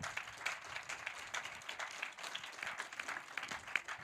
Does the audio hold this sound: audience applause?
yes